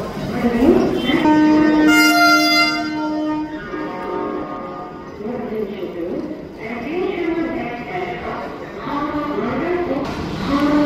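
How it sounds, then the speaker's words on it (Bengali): A Vande Bharat train pulls into a station near Howrah Bridge in Kolkata with a loud, sustained horn blast and a rumbling rail approach. Someone talks over it nearby. "এই বন্দে ভারত ঢুকছে একদম টাইমে।"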